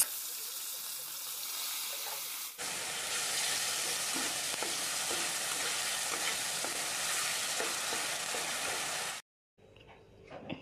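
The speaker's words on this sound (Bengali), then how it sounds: "এই মাছ দিয়ে আমি নুন হলুদ লাগিয়ে নিচ্ছি, ভেজে নেব" Fish rubbed with salt and turmeric frying in hot oil, a loud, steady sizzle that starts abruptly and carries on for several seconds before cutting off, with a quieter stretch before and after and no talking.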